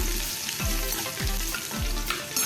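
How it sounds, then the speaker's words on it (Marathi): Crushed garlic cloves fry in hot oil with cumin and asafoetida, giving a constant crackling sizzle close by, broken by three evenly spaced spoon scrapes across the pan. "पाच सहा लसूण पाकळे आहेत ते आपण ठेचून घेतलेले आहेत त्या थोड्याशा आपण फ्राय करून घेऊया"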